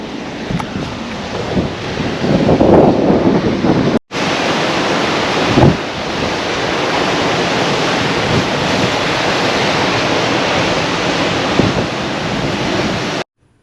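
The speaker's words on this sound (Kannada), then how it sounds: "ಆ ಗೋಡೆಯ ಬಗಲಲ್ಲಿರುವ ಬಂಡೆಗಳಿಗೆ ಸಮುದ್ರದ ಅಲೆಗಳು ಅಪ್ಪಳಿಸುವ ಸಪ್ಪಳವನ್ನು ಕೇಳಿಕೊಂಡು" Sea waves crash against rocks beside old fort walls on the Kasaragod coast, a steady, loud, rushing roar of surf with wind, broken by a brief gap near the start, with no voices.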